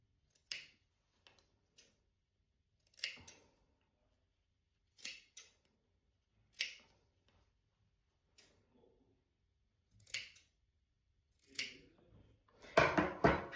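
Scissors snipping through fabric while sewing an Ella blouse-dress, sparse close, sharp cuts spaced a second or two apart in near silence, ending in a quick burst of several rapid snips.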